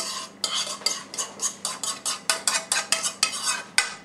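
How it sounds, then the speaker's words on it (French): A utensil scrapes and knocks in a cooking pot as tomatoes and seared vegetables are stirred for chili con carne, about a dozen quick rhythmic strokes, close and clear. "vous touillez vos petites tomates qui sont en train de chauffer"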